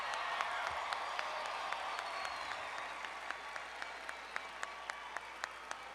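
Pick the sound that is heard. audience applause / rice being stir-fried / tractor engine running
audience applause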